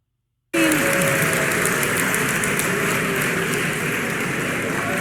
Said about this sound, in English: that was a huge ovation continuing